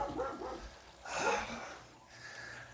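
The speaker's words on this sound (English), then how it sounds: "Go bark your head off, that way you'll wear it out." A dog barks outdoors in a few short, sharp bursts at moderate distance, with quieter whimpering or breathing between the barks.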